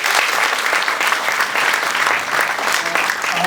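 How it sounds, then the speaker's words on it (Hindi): A theatre audience at a stage performance in Delhi breaks into steady, dense applause, loud and continuous throughout with many hands clapping. "तो उनके लिए थोड़ी ताली बजा दीजिए।"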